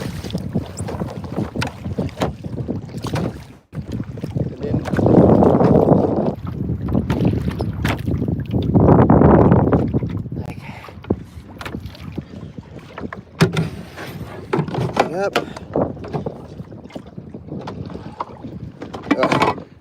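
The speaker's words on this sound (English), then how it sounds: "Paddle into the wind for a sec." Kayak paddling into the wind on open water while fishing, with steady wind buffeting the microphone, soft water swishes and two louder surges of rushing wind near the middle, no talking.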